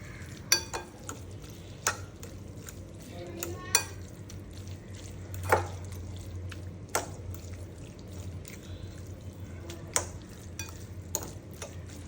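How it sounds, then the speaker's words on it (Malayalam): Cooked Maggi noodles stirred into a masala in a pan, with scattered scraping clicks and soft spatula knocks over a low sizzle, no talking. "ഇനി ഇതും കൂടെ ചേർത്ത് നന്നായിട്ടൊന്ന് മിക്സ് ചെയ്തെടുക്കാവേ"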